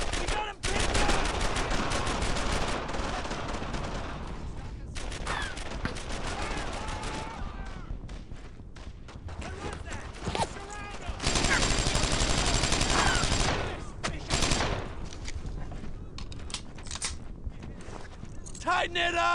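Gunfire in the WWII video game Brothers in Arms: Earned in Blood, dense bursts of machine-gun and rifle shots rattling close and loud, with lulls between volleys and a heavy sustained barrage partway through.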